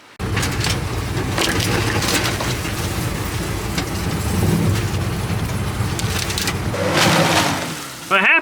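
A Christmas tree cut down in snowy woods topples and crashes, a continuous crunching, splintering rush of branches and wood lasting several seconds, loud and close, with people's voices mixed in near the end.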